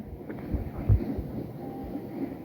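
A train running, heard as a steady low rumble with a few heavier thumps and some wind buffeting on the microphone, fairly close and continuous.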